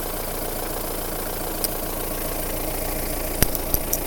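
A Mahindra Roxor's turbocharged engine idles steadily after a cold start in freezing weather, a close, even low rumble with a few faint clicks and taps near the end.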